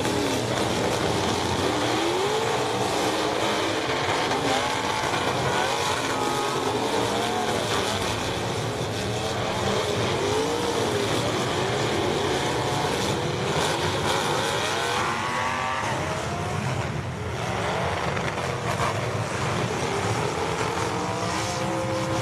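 Race cars at a demolition derby event, engines revving and roaring continuously with shifting pitch as they accelerate and back up, a dense mechanical din of several motors at mid distance, no talk.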